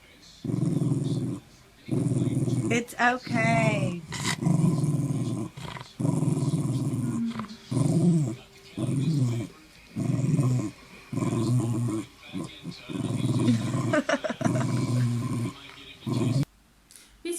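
A dog growls in repeated low rumbling bursts, close and loud, as a person leans their face toward its muzzle; a person speaks briefly and softly between the growls.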